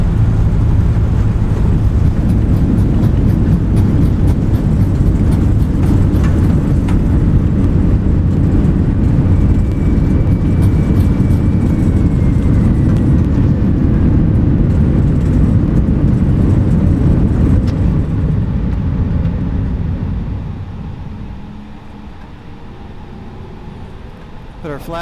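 Simulated Airbus A320neo reverse thrust on landing in a flight simulator game: a loud, steady roar of engine rush that holds, then drops away as the thrust spools down near the end.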